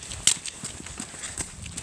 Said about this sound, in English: There's lots of horses riding over here.